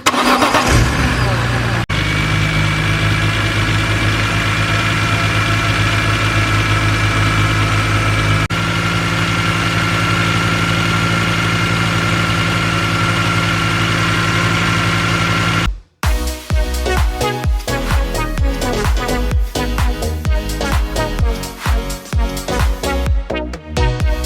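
A BMW E46 M3 engine idles steadily in a garage with a low hum, then cranks and fires at about sixteen seconds and settles into a loud, close, slightly uneven idle.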